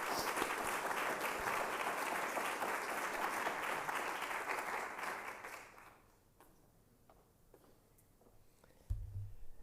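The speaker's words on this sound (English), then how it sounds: "I'd like to give them both a round of applause" An audience at a graduate capstone symposium claps in a full, dense round of applause that fades out after about six seconds, leaving a quiet room with a thump near the end.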